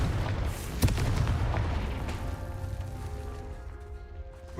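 A Confringo spell explosion in the video game Hogwarts Legacy bursts loudly with a single sharp boom, then a dense rumbling roar that slowly fades under a steady game soundtrack.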